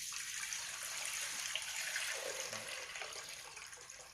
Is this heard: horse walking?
no